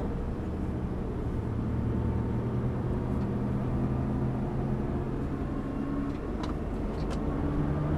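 A Nissan GTR on a race circuit gives off a steady, distant-sounding engine drone with tyre and road rumble, its pitch shifting gently as the throttle is reapplied.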